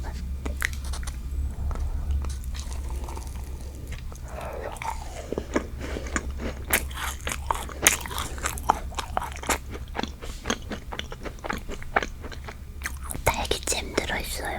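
Strawberry desserts, a macaron and chiffon cake, are bitten and chewed up close in soft, squishy, crunchy bites, with occasional faint whispering between them.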